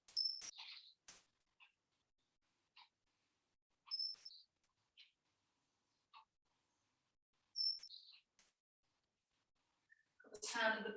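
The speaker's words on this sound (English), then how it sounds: "Got the sound of the birds." Outdoor birdsong arrives as a few separate, faint chirps and whistled phrases spaced several seconds apart over quiet air, with a brief rustle or voice at the very end.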